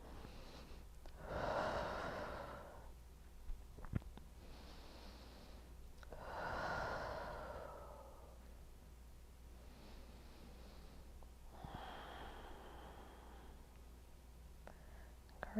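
Slow, deep breaths during a beginner yoga hip stretch, three long soft inhale-exhale swells spaced a few seconds apart, close and quiet with light rustling between them.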